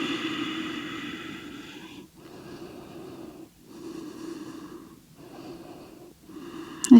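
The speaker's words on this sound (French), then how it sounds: "On respire profondément." Slow, deep breaths during a morning vinyasa yoga session come in long, audible inhales and exhales separated by brief pauses, close and breathy, with a soft sharp sound at the very end.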